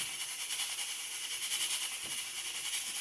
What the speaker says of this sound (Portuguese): O barulho ali é da panela de pressão, cozinhando batata.